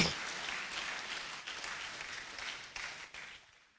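An audience at the Otumfuo Art Awards at Manhyia Palace applauds Ghanaian old master artists, a broad sustained clapping that swells in waves and then tapers off at the close.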